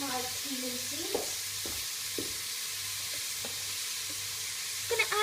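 Cumin seeds sizzle in a pan of oil with chilli, garlic and ginger for a butternut squash curry, a soft continuous hiss broken by occasional stirring clinks and scrapes, close up with no talk.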